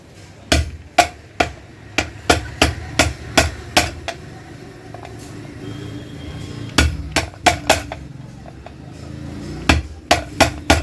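A hammer strikes a metal part of a United pressure cooker during repair, about two dozen sharp ringing blows in quick bursts with short pauses between them, loud and close.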